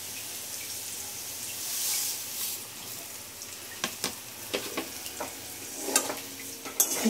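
Dry semolina being stirred and fried with already-fried potatoes in a pan, soft sizzling underneath with intermittent scraping and clinking strokes growing more frequent toward the end, close and moderately quiet.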